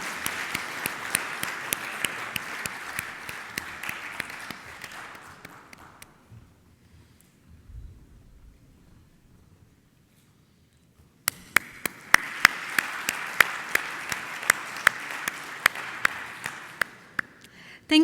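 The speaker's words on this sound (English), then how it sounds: "Big round of applause to Khalid." Audience applause for a man receiving a memento on stage at a CFO conference in the Middle East, dense and sustained, fading to near silence midway, then resuming loud and steady.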